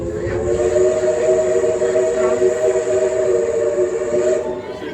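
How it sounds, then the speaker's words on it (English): A distant train horn in Tennessee holds a steady, sustained tone for several seconds over outdoor background noise. "You can hear the train."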